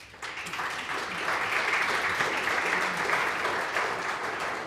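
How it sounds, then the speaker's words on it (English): An audience at a tech talk on machine learning applies steady, dense applause. It rises after a brief pause and holds fairly evenly for several seconds, sounding moderately distant and filling the room. "So please give them a round of applause."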